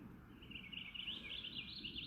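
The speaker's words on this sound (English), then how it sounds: "you'll be able to hear eagles, all sorts of birds" Birds calling in the woods, a continuous high chirping chorus over a low rumbling background, fairly faint and with no talk.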